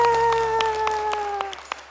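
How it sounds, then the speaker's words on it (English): A dance class gives itself a round of applause, with scattered individual claps ringing out over a sustained musical tone. The claps thin out and grow sparser toward the end. "big round of applause"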